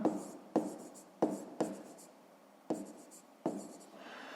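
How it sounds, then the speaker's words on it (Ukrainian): Pen strokes on paper while an asterisk is drawn in a 5th-grade math exercise: six quick, scratchy marks in an uneven rhythm, close and fairly quiet, with no voices. "Пишемо зірочку."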